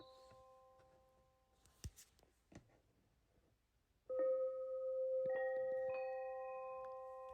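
Bell tone from an ambient sound app rings out clearly and sustains with a slow fade, several shimmering overtones layered above it, after a few soft clicks and faint rustles.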